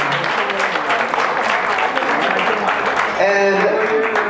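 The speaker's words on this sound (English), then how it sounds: "Let's give Judy and the fundraising team a big round of applause." Guests at a fundraising dinner in Toronto give a steady round of applause, dense clapping filling the room for several seconds while a voice speaks briefly over it toward the end.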